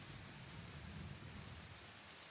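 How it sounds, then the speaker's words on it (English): Steady rain falls as a dense, even hiss with a soft low rumble underneath, continuous and fairly quiet throughout, with no voices. "I think we should just enjoy the rain."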